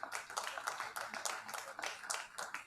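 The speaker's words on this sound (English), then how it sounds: "We can do better with that round of applause for the Executive Secretary" A short burst of applause for the Executive Secretary at an education stakeholder roundtable in Nigeria: scattered, moderately distant hand clapping that rises and falls for a few seconds, with no talk over it.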